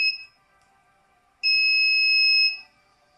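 A DIY mini spot welder gives a short high electronic beep at power-up, pauses, then sounds a longer steady tone lasting about a second, clear and close in a quiet room.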